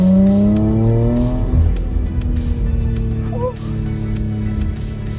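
Porsche Macan GTS turbo SUV engine revving hard in sport mode, rising harmonic tones climbing then falling as it accelerates, loud and close with tire noise.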